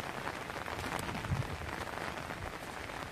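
Steady rain hisses down at a road repair site on the Batu Jomba road, a dense even patter on surfaces that continues without a break.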